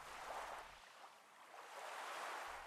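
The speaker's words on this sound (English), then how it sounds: "The boat departs, riding the gentle waves." Gentle ocean waves wash and swell in a steady, soft surf as a boat departs in the visual novel Nukitashi, a quiet rolling rush with no voices.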